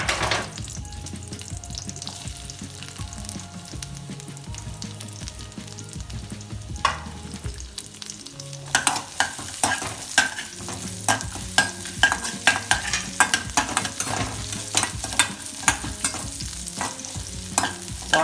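Onions and garlic sauté in a pan with a steady sizzle. Partway through, the sizzle gives way to busy, rhythmic spatula scraping and tapping close by.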